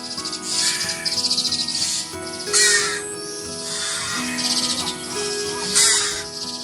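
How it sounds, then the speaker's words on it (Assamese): Several birds, house sparrows among them, chirp and call close by in a busy, overlapping chorus with harsher caw-like notes, steady throughout with no talking. "মনোজ গগৈৰ আশে পাশে এতিয়া চৰাইৰ কিচিৰ মিচিৰ মাত।"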